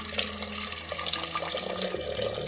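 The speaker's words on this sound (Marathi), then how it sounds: "आता हे बटाटे बुडतील एवढं आपल्याला पाणी त्याच्यात घ्यायचं आहे" Tap water poured into a pot over washed potatoes for boiling, a steady splashing pour with some trickling and bubbling, fairly close and continuous.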